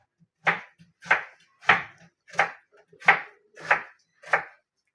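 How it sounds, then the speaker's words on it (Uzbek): An onion being peeled and cut with a knife, seven crisp even strokes spaced about half a second apart, close and otherwise quiet. "Hozir piyoz archib ko'ramiz."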